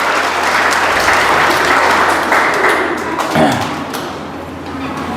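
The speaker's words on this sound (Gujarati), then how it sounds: "તો આપણે સૌ તેમનું તાળીઓથી સ્વાગત કરશું" An audience at a gathering of an organisation claps loudly and steadily to welcome a guest, the applause full and close before easing off toward the end.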